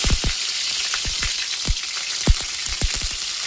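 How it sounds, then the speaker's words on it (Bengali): Cauliflower pieces fry in hot oil in a kadai, giving a loud, continuous sizzle with crackling pops scattered throughout, close up and without speech. "ফুলকপিগুলো তেলের মধ্যে ভাজা করে নেব"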